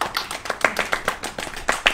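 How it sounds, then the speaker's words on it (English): A small group claps at a wildlife park livestream, giving a sparse, fairly close series of distinct hand claps in an uneven rhythm that lasts about two seconds. "Round of applause"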